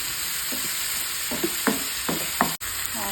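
Ginger, garlic and black pepper fry in a nonstick pan for fish biryani, a constant bright sizzle broken by several rhythmic spatula scrapes and stirs, close and alone.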